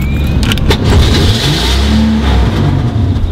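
A car with a rebuilt motor runs close by with a loud, steady engine drone that swells and revs at moments, with no voices over it.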